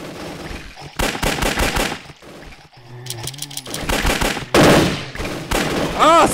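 Rapid bursts of gunfire in a zombie video game hit the player, loud and dense, with a player's voice shouting over the shots near the end.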